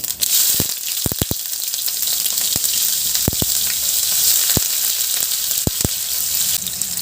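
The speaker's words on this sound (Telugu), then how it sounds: "ఇప్పుడు ఆయిల్ వేడైన తర్వాత ఆవాలు జీలకర్ర ఉల్లిపాయలు" Mustard seeds, cumin and onions fry in hot oil with a loud, bright, continuous sizzle and scattered sharp pops and crackles close up.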